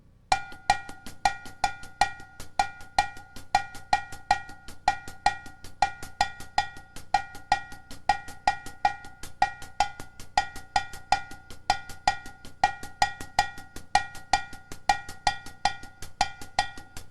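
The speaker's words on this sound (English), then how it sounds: "I'm playing the clave here with my right hand on this small bell." A clave pattern tapped on a small bell with the right hand while the left hand plays soft drum notes, a bright, regular metallic clicking that repeats steadily throughout.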